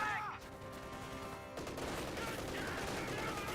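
MG-34 machine gun fire in the World War II strategy game Company of Heroes 2, rattling bursts mixed with other battlefield gunfire, fairly faint and continuous.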